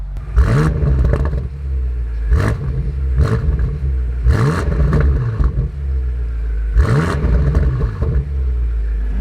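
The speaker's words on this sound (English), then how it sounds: "I'm going to turn the exhaust mode on and give this thing a few revs" A powerful twin-turbo V8 exhaust on a 2020 BMW M8 Competition revs sharply several times, each burst swelling into a loud roar over a steady deep idle rumble.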